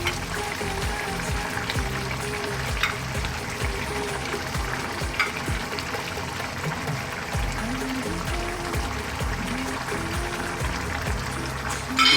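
King fish set back into a pan of curry masala, frying with a steady broad sizzle and occasional stirring clinks, continuous and close throughout the clip, with a talking voice partly over it.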